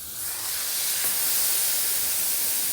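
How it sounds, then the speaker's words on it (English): Ham steak on a Blackstone Tailgater griddle, a broad hissing sizzle that rises at the start and then holds steady and fairly loud. "All right, let's get the ham steak on here."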